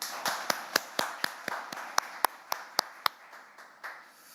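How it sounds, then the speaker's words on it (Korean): Journalists in a small room at a Korean National Assembly Speaker's press meeting clap together, a dozen or so distinct sharp claps in a loose, uneven rhythm that thins out toward the end. "서로 박수 한번 크게 치면서 시작하시죠"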